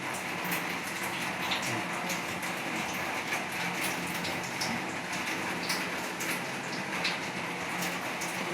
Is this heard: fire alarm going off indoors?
no